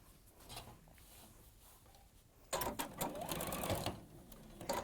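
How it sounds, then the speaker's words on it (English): A sewing machine stitches a quarter-inch seam, starting as a faint low hum, then running loud and fast for a little over a second before easing off, with no talking over it. "then you're going to sew 1/4 of an inch"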